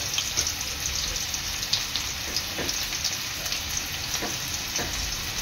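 Bay leaf, finely chopped onion and salt sizzle steadily in hot oil, a dense continuous crackle with scattered sharper pops, close and fairly loud with no talking.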